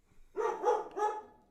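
A dog barks close by at night in a house, two or three quick, full-throated woofs run together, loud and alone with no talking.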